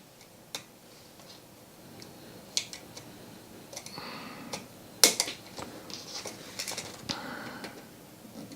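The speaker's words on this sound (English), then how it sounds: "I think I'm going to snip one of the legs of these" Small cutters snipping capacitor legs during repair of a Roland JP-8000 synthesizer circuit board, giving a few sharp, isolated clicks over a quiet background.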